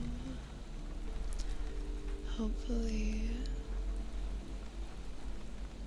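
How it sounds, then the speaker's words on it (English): A steady wash of rain plays as a soft background track while a person speaks briefly over it. "Let me turn the rain down."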